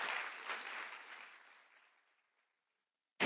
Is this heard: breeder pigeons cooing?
no